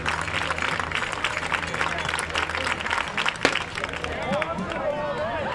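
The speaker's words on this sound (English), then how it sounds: "Fans doing the slow clap here at Lowell Park" Baseball fans at Lowell Park giving a slow clap in a steady crowd roar, with rhythmic clapping and murmuring chatter throughout and a sharp sound near the middle.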